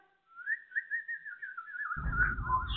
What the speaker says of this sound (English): he just keeps on whistling hard